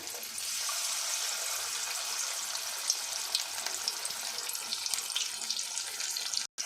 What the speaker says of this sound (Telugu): ఇప్పుడు మిగిలిన స్వీట్ కార్న్ కానీ నూనెలో వేసుకొని డీప్ ఫ్రై చేసుకోవాలి.